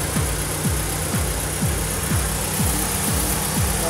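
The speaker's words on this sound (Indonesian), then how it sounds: "suara mesinnya sangat halus" A 1000 cc Toyota Starlet engine idles smoothly and steadily up close, with a soft periodic ticking pulse recurring about twice per second over the constant hum.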